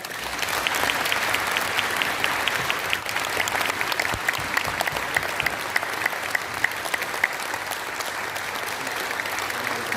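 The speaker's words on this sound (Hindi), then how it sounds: "मैं चाहूंगा इन सबके लिए एक जोरदार ताली हो जाए।" A large audience at a political gathering near India Gate claps loudly and steadily, a dense crackling roar of hands that holds level for the full ten seconds with no voices standing out.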